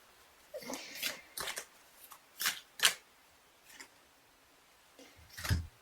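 Wild Kuan Yin Oracle cards are shuffled by hand in soft, quick riffling bursts separated by short pauses, quiet and close.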